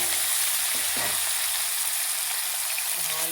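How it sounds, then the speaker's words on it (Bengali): Prawns frying in hot oil in a wok, a loud, dense sizzle that holds steady from start to finish, with a few brief low knocks near the beginning. "তেল গরম হয়ে গেছে, চিংড়ি মাছটা দিয়ে দেবো।"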